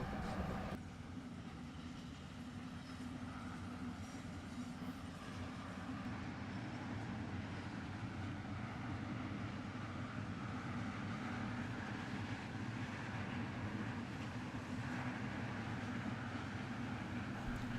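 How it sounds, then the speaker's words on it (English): A freight train hauled by a Class 185 Traxx 15 kV electric locomotive rolls past near Mannheim and Heidelberg in a steady, distant rumble with a faint clatter of wagons and no break. "The locomotive on the train is a Class 185 Trax, a 15 kV only machine"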